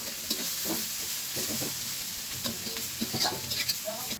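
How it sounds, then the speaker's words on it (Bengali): Marinated chicken breast frying in a pan with finely minced garlic, a steady sizzle with scattered stirring scrapes and clicks from a spatula. "হালকা ভাজার পর আমি ম্যারিনেট করা মুরগির বুকের মাংস দিয়ে দিলাম"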